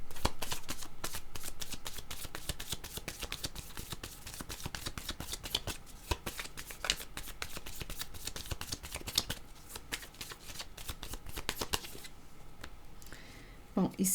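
Playing cards are shuffled repeatedly at a tarot-style reading, a close crisp riffling and flicking that carries on in dense bursts for many seconds, with a quiet voice faintly underneath.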